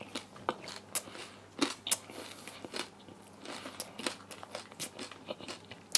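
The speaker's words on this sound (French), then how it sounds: "tu manges ça, ça craque, ça croustille." Crusty fresh bread is bitten and chewed close up, irregular crisp crunches and crackles of the crust repeating quietly with no talking.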